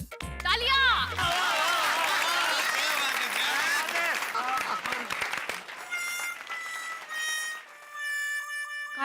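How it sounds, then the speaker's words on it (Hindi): Applause from a crowd gathered at a Ganesh festival in a housing society courtyard, a sustained loud wash of clapping that holds for several seconds and then gives way to musical chimes and scattered voices. "तालियां"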